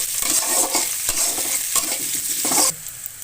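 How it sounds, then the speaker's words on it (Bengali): Chopped onions frying in hot oil in a wok, a dense close sizzle broken by repeated scraping stirs, easing off slightly at the end. "এবার দিয়ে দেবো কুচি করা পেঁয়াজ এবার পেঁয়াজগুলো সুন্দর লাল লাল করে ভেজে দিব"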